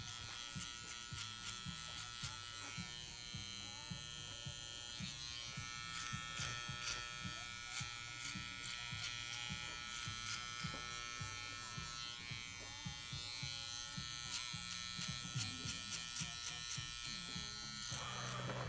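A Wahl Magic Clip hair clipper buzzes continuously while cutting hair in a barbershop, a close, steady electric hum with small changes in pitch as it moves through the hair, with no talking.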